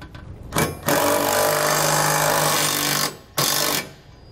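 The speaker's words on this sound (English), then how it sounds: "We'll then use a 9/16 socket to run it into the hole that we had just drilled." A power tool with a 9/16 socket drives a self-tapping screw into a freshly drilled hole while a Roadmaster Comfort Ride suspension is installed on a 2017 Grand Design Reflection trailer. A loud, close whir runs for about two and a half seconds, then a short final burst follows.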